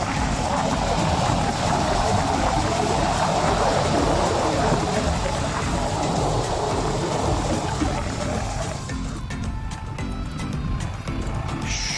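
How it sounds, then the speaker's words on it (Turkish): Strong wind roars steadily across the microphone in a dense, broadband rush, thinning slightly near the end, outdoors during Bordeaux mixture spraying with a New Holland T580B tractor. "bu rüzgar nereden geldi böyle ya?"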